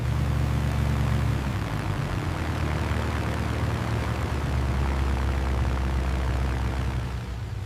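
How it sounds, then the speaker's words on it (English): Twin Rolls-Royce Merlin piston engines of a wooden de Havilland Mosquito drone in a deep, steady, resonant thrum, loud and continuous throughout with a low rumbling layer beneath, no voices. "the deep, resonant thrum of the twin Rolls-Royce Merlin engines providing a comforting"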